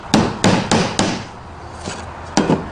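A hammer taps a nail into wood while a simple wooden stool is partly assembled on a table: four sharp, close knocks in a quick uneven run, a pause, then two more taps, with no talk.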